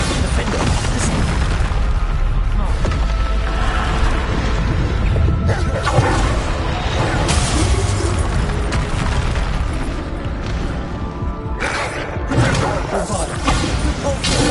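Spell blasts in Hogwarts Legacy combat, with heavy booming explosions and crashes layered over continuous battle noise, loud and dense throughout with a brief lull near the end.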